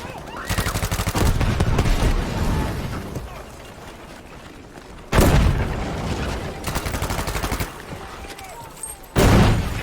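Thompson M1928A1 submachine gun firing in Battlefield V, loud rapid automatic bursts in several separate strings with quieter battlefield noise and distant shots in between.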